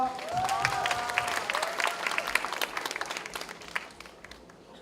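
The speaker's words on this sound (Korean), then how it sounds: "큰 박수로 맞아주세요" A school audience applauds steadily for a student presenter, the clapping dense and lively at first and then thinning out toward the end.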